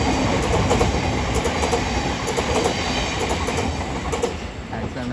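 A Class 707 electric train, unit 707 016, passes at New Cross, its wheels clattering over rail joints in a steady rolling rumble with a high whine above, loud and close throughout.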